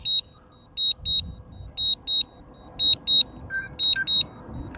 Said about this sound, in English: The 3X camera just beeped, so it turned off and turned back on.